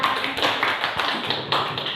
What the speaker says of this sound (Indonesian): Buat kelompok 1, tepuk tangan